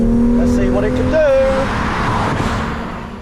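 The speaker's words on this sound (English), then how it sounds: "we've got a 3-litre diesel engine in here." A 3-litre diesel car accelerating hard on a track, loud engine drone climbing in pitch then easing, heard from inside the cabin.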